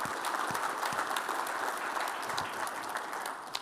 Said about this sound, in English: we're going to give a round of applause to all those people that put a paper in this year